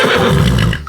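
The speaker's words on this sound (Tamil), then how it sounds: "குதிரை." A horse gives a loud, close whinny, a single wavering neigh that fades out at the end.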